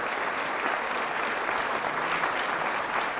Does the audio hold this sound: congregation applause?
yes